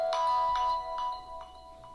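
A Find Me device locator plays a repeating electronic ping, about five evenly spaced chimes over a steady tonal hum, moderately loud and with no voices.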